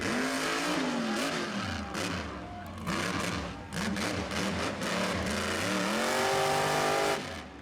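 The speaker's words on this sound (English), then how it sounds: "When's the last time you heard a truck sound that good?" A monster truck at the Sublimity Harvest Fest revs its engine hard in loud, rising and falling bursts, with brief drops between the surges and a sustained roar near the end.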